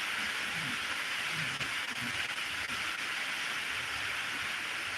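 Steady rain hitting a building at night, heard from inside a garage after the downpour has eased, a constant even hiss with faint scattered patter throughout and no talking.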